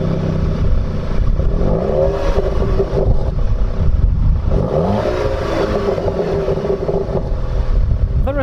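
Sporty twin-exhaust Audi TT 8J S line engine revving in two swelling bursts over a steady idle, close and fairly loud, with some wind buffeting on the microphone.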